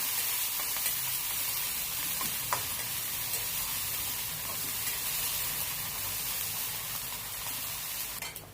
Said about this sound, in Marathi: ते आपण तेलामध्ये टाकूया ते छान परतून घेऊया